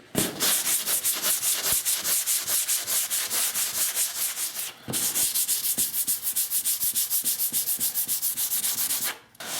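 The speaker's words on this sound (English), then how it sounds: "We can give her a little bit of a sand." Dried drywall mud around a doorknob hole is hand sanded in steady, rapid back-and-forth strokes, a loud close scratchy rasp with two brief pauses and no voices.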